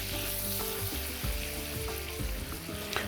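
Flour cooking in butter for a béchamel sauce gives a soft, steady frying sizzle close by, with faint stirring scrapes and no voices.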